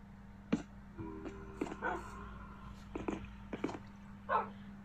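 Pet dogs in the video game Minecraft give short whimpers, yips and barks in a scattered run, close and moderately loud over a constant low hum.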